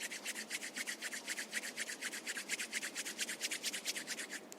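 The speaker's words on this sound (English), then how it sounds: "Rub your palms together." Palms rub briskly together during a yoga session, a fast, even rhythm of about two dozen dry swishing strokes, close and clear with no talking.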